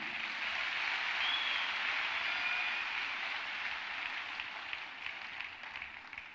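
An audience at a national youth festival prayer gathering applauds in a steady, dense wash of clapping that keeps going for several seconds and slowly thins out toward the end.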